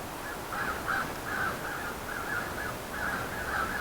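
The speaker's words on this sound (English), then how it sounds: "Yeah, the birds outside." Crows caw repeatedly outdoors, a series of rough calls in uneven bursts, moderately distant over a steady background hiss.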